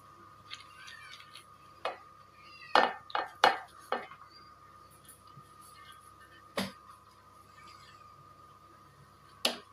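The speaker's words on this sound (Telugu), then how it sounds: "ఇప్పుడు ఇందులో రైస్ వేసేసుకుందాం." Rice goes into a pot of chicken biryani with a series of sharp metallic clinks and scrapes from a spoon against the vessel, close and irregular, over a quiet background.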